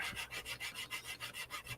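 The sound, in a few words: filing a model part with a sanding stick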